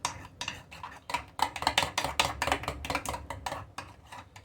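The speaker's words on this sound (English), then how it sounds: "Stir that up in a cup of Duke's mayonnaise." A spoon scraping and clinking against a cup while buttermilk dressing is stirred into Duke's mayonnaise, in a steady run of quick, close strokes with rhythmic scraping and tapping.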